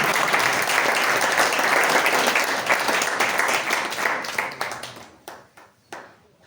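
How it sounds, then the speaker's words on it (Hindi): An audience at a Republic Day gathering at a rehabilitation centre claps loudly in sustained applause to welcome a speaker, then the clapping thins into a few scattered claps before fading. "तो जोरदार तालियों से स्वागत किया जाए"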